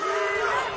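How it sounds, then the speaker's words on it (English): Spectators at a kickboxing bout on a Road to Jackhammer UK card roar and shout together, a loud, continuous wall of crowd voices lasting under a second. "Crowd giving him a bit of motivation here."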